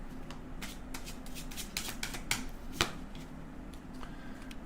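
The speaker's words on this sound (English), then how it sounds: "Is the shuffling too loud?" Tarot cards being shuffled close by, a steady run of soft riffling flicks and snaps that goes on throughout, with a faint low electrical hum underneath and no talking.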